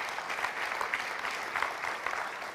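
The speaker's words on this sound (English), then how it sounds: "We can clap." A church congregation claps after baptisms are announced at a Sunday service, giving a steady, moderately distant round of applause that holds evenly throughout with no voices over it.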